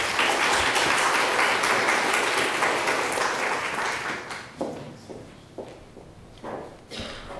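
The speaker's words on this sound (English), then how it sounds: "I'd just like to ask for another round of applause to our speakers today" An audience at a records management talk applauds the speakers, with a dense burst of clapping that fades after about four seconds into a few isolated claps.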